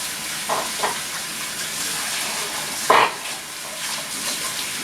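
Bacon frying in a pan for homemade pizza topping gives a steady, broad sizzle throughout, with a few brief louder crackles and pops rising above the hiss.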